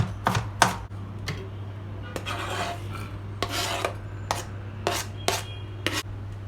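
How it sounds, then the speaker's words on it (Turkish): A knife chops vegetables and ingredients for Kilis tava finely on a cutting board, with about a dozen sharp, irregular knocks spaced apart over a quiet kitchen hum. "Doğradığımız malzemeleri bıçakla biraz küçültüyorum."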